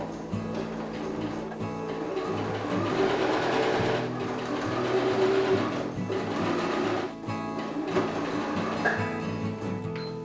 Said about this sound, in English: I'm stitching down one long edge of the inside of the bottom now